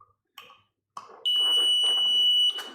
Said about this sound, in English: this is a buzzer